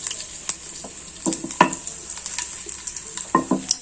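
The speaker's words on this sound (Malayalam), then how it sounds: "ഈ സമയം കൊണ്ട് നമുക്ക് ഈ കടുക് കൂടെ പൊട്ടിച്ച് ഇടാം" Mustard seeds popping in hot oil for a Kerala-style fish head curry made with vela para, scattered sharp crackles and pops over a steady sizzle, close and moderately loud, with no talking.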